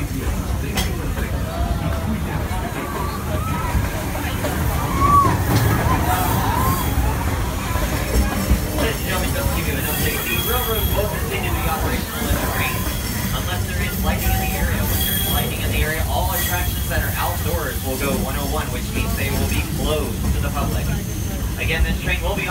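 The Walt Disney World Railroad steam train runs through Magic Kingdom between Frontierland and Fantasyland, a steady rumbling of wheels and carriages with occasional squeals and clanks, while a recorded announcement speaks over the ride.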